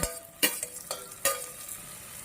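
Tomato dropped into a pan of cooked onions frying in oil, with a few sharp sizzling bursts and clanks of stirring over a low continuous fry, close and moderately loud.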